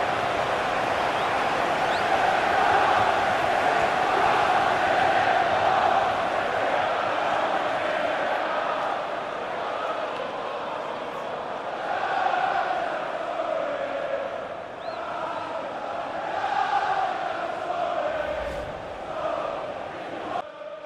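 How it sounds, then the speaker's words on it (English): A FIFA 15 video game crowd roars and cheers after a goal in the Santiago Bernabeu Stadium, a loud sustained stadium roar that swells and eases over about twenty seconds. "Crowd settling back down here in the Santiago Bernabeu Stadium."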